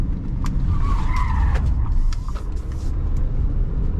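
Car driven hard on an expressway, a loud continuous engine roar with short squealing tyre skids in the middle, close and without voices.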